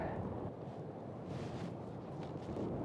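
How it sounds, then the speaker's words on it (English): Cold wind gusts at the base of coastal cliffs on Hokkaido's western coast, a steady low rumbling buffet against the microphone with no break. "Windy and cold here as well."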